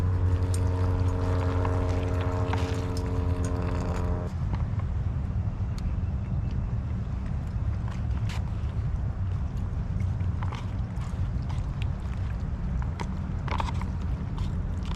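Hot water pours into a pouch of dehydrated chicken pesto pasta at a cold-weather kayak campsite, a steady close rushing splash running throughout, with a humming tone over the first few seconds.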